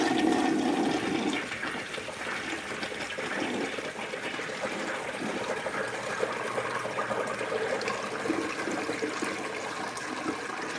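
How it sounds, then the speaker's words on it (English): A toilet flushes: a 1989 Murray Savoy or a 1978 Plebe with a 1992 Plebe or Cadet tank. An initial gushing rush settles into a steady, close refill hiss and trickle that lasts about ten seconds, with no talking. "So here's a flush."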